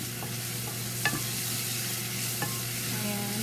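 Onion sautéing in a pan for beef kare-kare, an even, close sizzle with a low steady hum beneath and a couple of sharp spoon scrapes against the pan as it is stirred.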